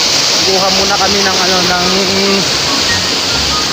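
Water runs toward a river by a fishing spot, a steady broadband rush that stays loud throughout, with people talking over it for the first few seconds.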